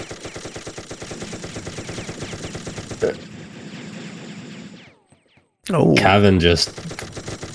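Gunfire in Infantry Online, a long, dense stream of rapid automatic shots that thins to a lighter rattle, goes briefly silent, then a loud burst returns; a voice speaks over part of it.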